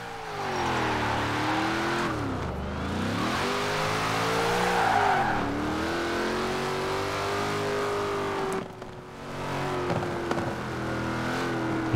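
A Ford Mustang in the video game Forza Horizon 4 revs and shifts pitch repeatedly while drifting, with tire squeal and popping exhaust bursts, continuous and loud throughout.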